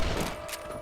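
Gunfire from the video game Red Dead Redemption, a dense, loud burst of overlapping rifle shots that fills the whole short moment without a break.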